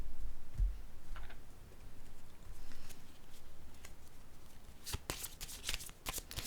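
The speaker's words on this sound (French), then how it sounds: "Je vais déposer une carte ici." A card being laid down during a tarot-style card reading: a soft, low shuffling rustle, then a cluster of sharp papery snaps and slaps toward the end, close and fairly quiet.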